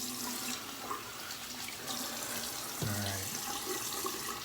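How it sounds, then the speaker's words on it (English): Tap water runs into a sink while a straight razor blade is rinsed mid-shave, a steady close gush with a brief louder splash near the end. "Rinse off here a sec."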